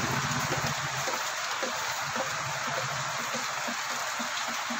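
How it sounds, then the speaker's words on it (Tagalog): Steady rain falling around a workshop where a stainless sidecar door is being built, a constant close hiss of drops on surfaces with no pauses and no voices. "Nabutan tayo ng ulan."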